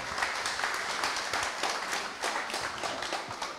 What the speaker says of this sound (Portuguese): peço aplauso aqui do público